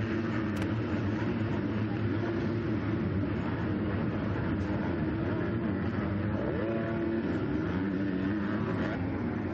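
Motocross motorcycles racing in the 250 B class at Loretta Lynn's, a dense continuous drone of engines revving across the track, loud and unbroken throughout.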